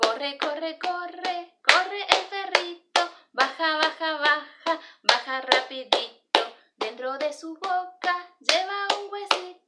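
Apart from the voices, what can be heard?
hand clapping accompanying a children's song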